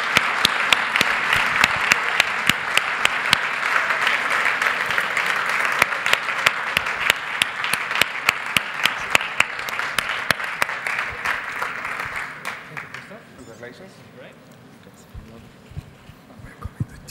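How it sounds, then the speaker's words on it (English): An audience at a tech venture night claps for the announced winner, a long dense round of applause with sharp individual claps, fading after about twelve seconds into quieter scattered claps and room noise. "Big applause to InZair."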